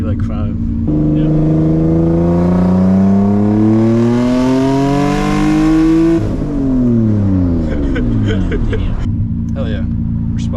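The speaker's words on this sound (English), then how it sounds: "I'll do 2nd gear full throttle till 60" A single-turbo Nissan 350Z makes a full-throttle second-gear pull, its engine note rising loud and steady for several seconds before it lets off and drops away, with brief turbo hiss and voices near the end.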